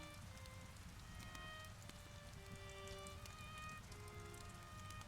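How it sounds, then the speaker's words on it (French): Fine, steady rain falls continuously on a surface at night, a dense even patter at moderate level with no pauses, while faint tonal notes like a distant violin drift above it. "L'averse s'était apaisée et transformée en une pluie fine et régulière."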